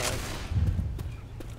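A short burst of gunfire in Left 4 Dead 2 opens with a sharp blast, followed by a few fainter shots trailing off.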